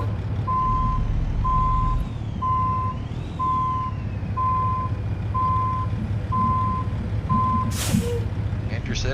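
A semi truck in American Truck Simulator backs up, its reversing alarm beeping eight times in an even rhythm over a low diesel idle, followed by a sharp hiss of air brakes.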